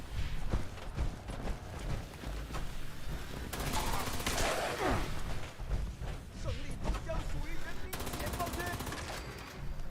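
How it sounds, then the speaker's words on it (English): Gunfire aimed at the player in the online game Fallout 76, with rapid bursts and shots scattered through a busy game soundscape while someone talks over it. "Who's shooting me?"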